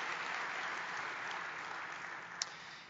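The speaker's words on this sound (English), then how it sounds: "let's give them a round of applause as well" An audience at a surgical society's presidential address applauds, a steady, fairly faint wash of clapping from a large crowd heard from a distance, with one sharper clap standing out near the end.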